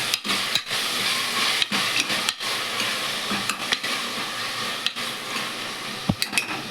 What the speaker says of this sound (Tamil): மீடியம் சைஸ் தக்காளி அரிஞ்சு வச்சுருக்கேன். அதையும் போட்டு எண்ணெயில் நல்லா வேக விடணும்.